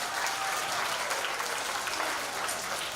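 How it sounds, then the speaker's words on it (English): Steady, dense applause from a school audience, continuous clapping at even loudness throughout with no pauses. "a round of applause"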